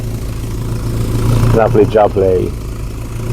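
A Volvo 240 engine idles with a freshly welded hot rod exhaust tip, a steady low rumble close by, while someone speaks briefly over it.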